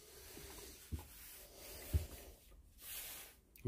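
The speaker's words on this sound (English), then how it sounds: "Once you fluff them up a little bit like this, they do take a spark really easily." Wax-coated cotton wool tinder tabs from a fire kit being fluffed up by hand, giving soft close rubbing and fibrous scratching with a few sharper rasps, faint and otherwise quiet.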